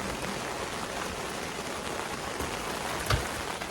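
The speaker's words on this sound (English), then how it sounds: "It's raining." Steady rain falls on a Colorado hike ahead of a hail storm, a dense unbroken hiss of drops on surfaces with one brief louder patter near the end, no voices.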